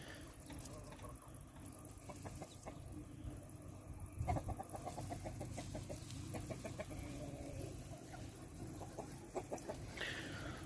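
Laying hens cluck in a steady scattered chorus, with short repeated calls rising and falling against a constant farmyard background.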